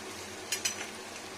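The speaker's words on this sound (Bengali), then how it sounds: "এখানে আমার উচ্ছে ভাজা হচ্ছে ব্রাউন" A quiet, steady sizzle of bitter gourd frying in a pan, with two brief metallic clinks of a utensil.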